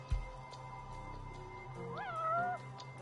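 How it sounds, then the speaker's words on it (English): A cat meows within the video game Judgement, a single rising then falling call near the end over a steady low game ambience, after a brief thump at the start. "Sounds like he's right at my feet."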